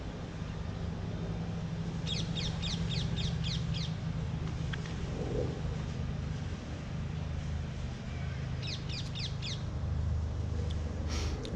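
Parrots squawk outdoors at an allotment in two quick bursts of rapid repeated calls, with a hedge trimmer working somewhere and a steady low drone beneath, birds at moderate distance and no talk.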